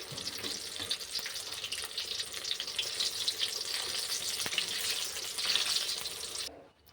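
Bottle gourd fritters sizzling in hot oil, a continuous bright crackling hiss held at an even level close by, ending abruptly as the sound cuts off.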